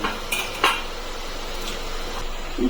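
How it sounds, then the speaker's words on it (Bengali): Rice going into a pressure cooker: short metallic clinks and scrapes of pot and utensil close by, a couple of brief clatters over a steady background hiss. "এখন আমি চালগুলো প্রেসার কুকারের মধ্যে দিয়ে দিচ্ছি।"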